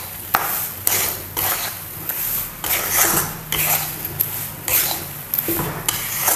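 Gram flour being roasted in a pan with a spatula, scraping and rubbing strokes repeating in an uneven rhythm, close and fairly loud, no voices.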